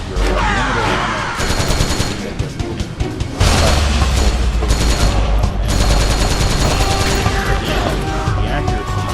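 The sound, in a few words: M4 rifle gunfire in Metal Gear Solid 4 video game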